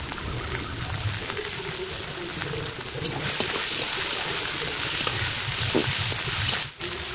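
Vegetables, ivy gourd and long beans, sizzling and frying in a pan for egg chowmein, a steady crackling hiss with occasional stirring scrapes, close and continuous.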